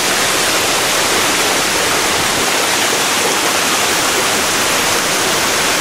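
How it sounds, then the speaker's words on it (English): Steady, loud roar of a 50 ft waterfall filling the whole clip, dense and unbroken from start to finish. "We arrived at this waterfall today."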